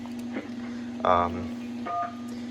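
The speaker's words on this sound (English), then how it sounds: "There's the DTMF." A landline phone dials with DTMF touch tones, a couple of short separate beeps over a steady dial-tone hum, heard close and clear.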